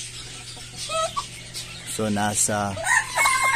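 Turkeys, one male and two six-month-old females, clucking and calling in a backyard pen, with bird calls and short cackling bursts over a steady low hum and someone talking.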